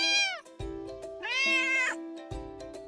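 A kitten gives two loud, close meows with a short pause between them. No voices are heard.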